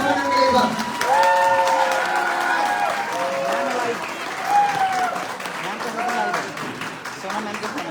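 Loud applause and some cheering from a training-session audience in Kashipur, Uttarakhand, clapping under and between a voice talking over it, with the crowd noise swelling and easing across the stretch.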